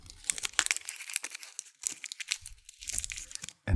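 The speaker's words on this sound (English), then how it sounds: "I find crinkling plastic to be some of the worst noises like this" Plastic packaging crinkling and tearing as a Razer Mamba Tournament Edition mouse is unboxed, in close, irregular bursts of crackle with brief pauses.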